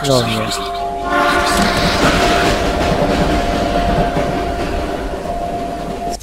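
Subway train running in the video game All Fall Down, a loud continuous rumble and clatter with horn-like sustained tones throughout, with a brief spoken word over it near the start.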